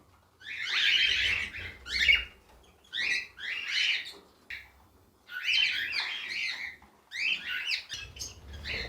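A cockatiel breeding pair, male and female, calls in short bursts of shrill chirps and squawks separated by brief pauses, close by and moderately loud.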